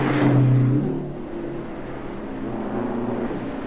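Racing trucks, a Kenworth among them, pulling away at a race start: a loud engine roar that swells at first, then settles into a steady, heavy rumble.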